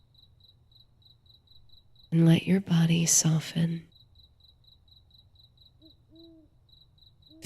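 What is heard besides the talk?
night crickets chirping and night birds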